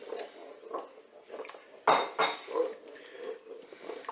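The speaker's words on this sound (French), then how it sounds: "je vais rajouter la crème fraîche dans la cuve. Je vais bien sûr mélanger." A spoon stirs crème fraîche into mushroom velouté inside a Cookeo multicooker pot, giving soft scraping with a few sharper clinks against the metal bowl near the middle, close and fairly quiet.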